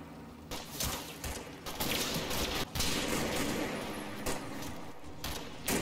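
Sustained gunfire from the war game Combat Mission, a battle near Grainville Chateau in Operation Epsom: dense overlapping bursts and cracks, loud and continuous, with brief lulls and no talk.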